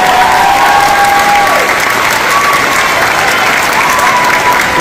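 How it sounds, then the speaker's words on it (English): Sustained, loud applause from an audience honouring advisors at a ceremony, dense and steady throughout with a faint tonal whistle or feedback drifting through. "receive a very warm round of applause for all of their hard work"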